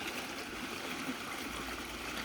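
Steady broadband rush of water spilling over a waterfall in a newly built water system, a continuous close wash of flowing and splashing water with no voices.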